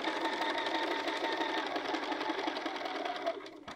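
A sewing machine stitching a fabric field bag runs in a steady, fast, even rattle nearby, slowing and stopping just before the end.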